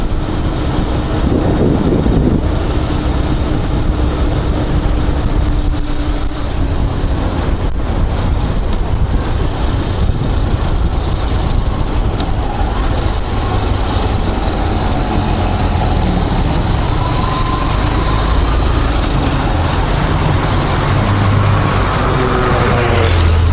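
A car cruising along a wide open road at night, a loud continuous engine and road rumble with wind noise filling the whole stretch, steady throughout with a few faint shifting tones.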